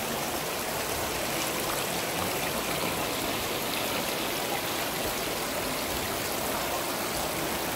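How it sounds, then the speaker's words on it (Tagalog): Water flows steadily like a small stream in the medieval town of Siena in Tuscany, a dense, even rushing that is close and continuous, with no voices. "Dumadaloy yung tubig, oh."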